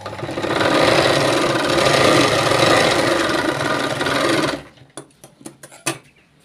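A sewing machine stitches a katori blouse in a steady, continuous mechanical run that stops abruptly after about four and a half seconds, followed by a few sharp clicks and taps.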